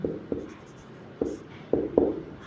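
A pen writing by hand during a maths lesson, scratching out short strokes in an irregular rhythm, close and fairly quiet with no speech over it.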